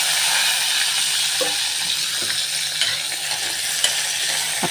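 Onions, tomatoes, carrots, green chillies and garlic frying together in a pan for vegetable dal rice, a steady close hiss and sizzle with occasional soft stirring knocks.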